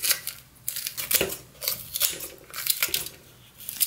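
Fresh red chili peppers are cut up before grinding, about ten of them, with a series of close, crisp snipping strokes in an irregular rhythm.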